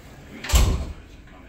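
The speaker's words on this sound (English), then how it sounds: "Can manually lock the door." A single dull thud of a door being shut at a short-term rental house, close and brief, with a low boom settling into room tone.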